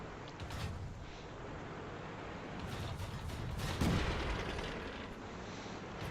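Rumbling cannon fire and blasts from a T127 light tank in a tier 3 tank battle game, a dense, continuous roar with one heavier shot standing out near the middle, loud and close throughout.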